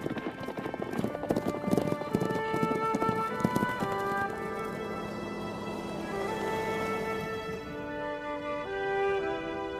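Horses' hooves clop steadily and in quick rhythm during a long-distance race, a dense near pattern of hoofbeats with an occasional whinny, gradually easing and thinning toward the end.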